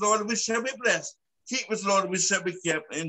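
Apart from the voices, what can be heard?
None of the usual background noises is heard.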